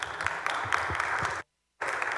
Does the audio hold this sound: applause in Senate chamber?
yes